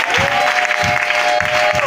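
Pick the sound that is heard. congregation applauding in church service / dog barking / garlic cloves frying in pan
congregation applauding in church service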